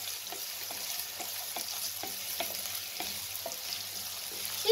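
Chopped onions stir-fry in a pan for chilli parotta, a steady sizzle with repeated soft scraping strokes of the spoon throughout, close and alone.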